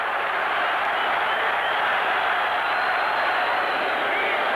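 A stadium crowd at a 1984 Chicago Blitz versus New Orleans Breakers football game roars steadily as a broad, distant wash of noise, loud and unbroken throughout.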